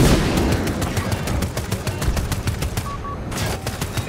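Dense, continuous automatic gunfire from a video game battle with helicopters and an F-35 jet, rapid repeated shots close and loud throughout, pausing only briefly near the end.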